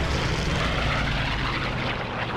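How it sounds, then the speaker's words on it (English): Warplanes roar overhead in the World War II shooter Call of Duty 2: Big Red One, a dense, loud propeller-engine drone that fills the scene continuously with no speech. "Am I supposed to be shooting at the planes?"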